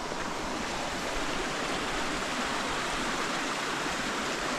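Water rushes through a rugged canyon of exposed bedrock, a steady, dense, unbroken roar at close range with no voices.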